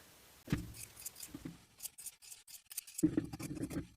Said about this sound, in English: I'll trim that armhole fabric to meet the raw edge of the bias tape.